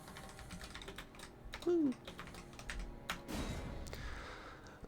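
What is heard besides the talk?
typing a name on a keyboard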